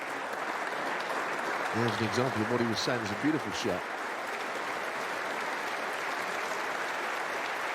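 A snooker crowd at the Masters applauds a safety shot in the first-round match between Mark Selby and Robert Milkins, a steady clapping that carries from start to finish while a commentator speaks briefly partway through.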